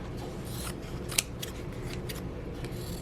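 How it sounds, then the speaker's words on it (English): Scissors snip through fabric in a series of quick, crisp cuts, close up, with one sharper snip standing out, no talking. "So I'm just going to take my scissors and trim around it."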